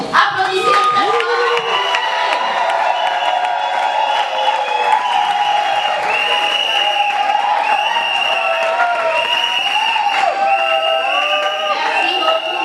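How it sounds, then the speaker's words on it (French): Loud, sustained applause and cheering from a crowd at a wedding vow renewal ceremony, with whoops and children's shouts mixed in, and voices talking over the clapping throughout. "applaudissez très fort"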